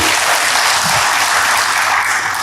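A church congregation applauds during a sermon, a loud, dense, continuous roar of many hands clapping close by, without talk.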